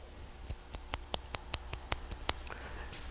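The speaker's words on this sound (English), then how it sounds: "don't know if you can hear that, but we went from plastic to glass bottles" Glass bottles of spray coating clink together in a quick run of about ten sharp, evenly spaced ringing taps, fairly close, then stop over a low background hum.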